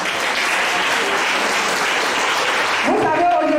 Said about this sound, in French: Acclamez-vous encore.